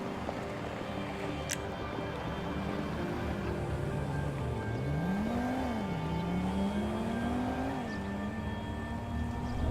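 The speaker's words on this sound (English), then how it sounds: "it's a weird sensation driving on a bit of blacktop" A four-wheel drive vehicle cruising on a blacktop road, a steady close engine drone with the pitch rising and dipping through gear changes, constant road rumble throughout.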